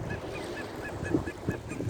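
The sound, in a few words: geese honking in a park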